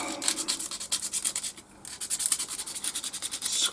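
Quick back-and-forth scratching as pen tubes are roughened before gluing, a close, steady run of rasping strokes with one brief pause midway.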